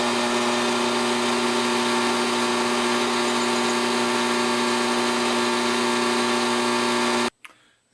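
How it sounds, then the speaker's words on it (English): A drill press boring through a metal chef's knife blade held in vices and clamps, giving a loud, steady droning whine with strong tones for about seven seconds before it abruptly cuts off. "And now we're going to drill through."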